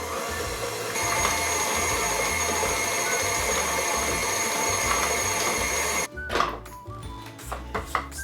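An electric mixer whips pound cake batter as sugar is added gradually, a loud steady whirring hum that cuts off abruptly near the end, leaving clattering and scraping in the bowl.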